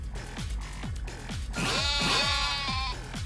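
Goats bleat in a fight within Yakuza: Like a Dragon, a series of close, wavering cries that build into one long quavering bleat over a steady rhythm of low thumps.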